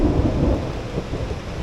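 A thunderstorm with steady heavy rain drumming on a tent along the Appalachian Trail, a dense continuous roar with low rumbling underneath, loud and close, with no voices.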